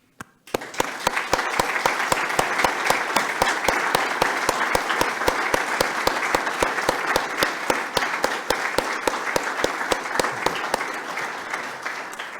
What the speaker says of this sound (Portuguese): também merecedores destas palmas